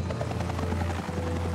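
Steady, droning helicopter rotor and engine hum from the LEGO Jurassic World: The Legend of Isla Nublar video game, close and continuous with no talking.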